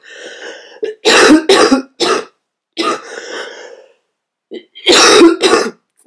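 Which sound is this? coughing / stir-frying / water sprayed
coughing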